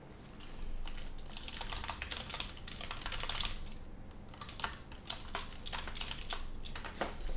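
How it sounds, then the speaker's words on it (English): Computer keyboard typing at close range, bursts of rapid key clicks with brief pauses, steady and fairly quiet throughout with no talking. "I will stop typing in a second."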